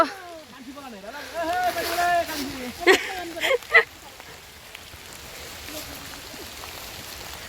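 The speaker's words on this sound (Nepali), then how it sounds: "पानी पर्यो" Steady rain patters on a surface throughout, while voices speak briefly near the start and then fall silent.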